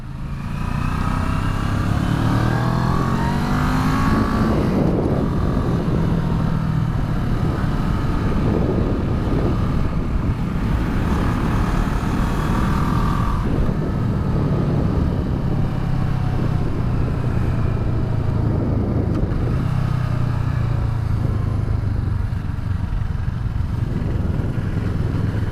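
A 2015 CFMOTO 650NK motorcycle is ridden on the road, its engine note rising and falling through repeated gear changes under steady wind roar, loud and close throughout.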